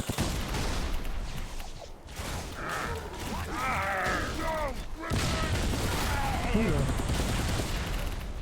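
Weapon fire from Halo 3 on Legendary difficulty, a dense, continuous stream of game gunfire and impacts across the whole stretch, with players talking over it.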